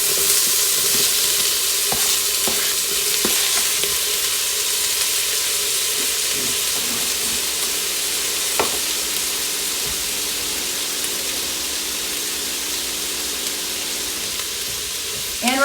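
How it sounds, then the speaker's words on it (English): Green peppers dumped into a hot Instant Pot set off a loud, steady sizzle that runs the whole time, with a few faint stirring knocks and no talking. "We're going to dump in our green peppers."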